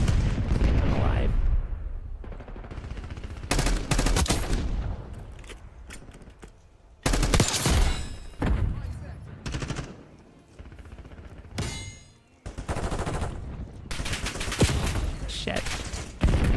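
Video game firefight with rapid bursts of gunfire and a grenade blast, loud and choppy, while players talk over the action.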